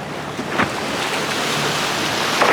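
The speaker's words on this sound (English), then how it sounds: "Sometimes you have these waves." Sea waves wash and slosh steadily around a sailing boat under way, a continuous close rush of water mixed with wind buffeting the microphone.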